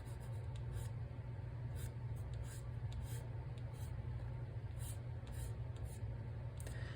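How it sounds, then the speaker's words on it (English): A pencil tip scratching on a sheet of clean paper in short, soft strokes, faint and close over a steady low background hum. "So I've got it cleaned off by basically drawing on a piece of clean paper."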